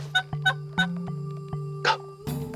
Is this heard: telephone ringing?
no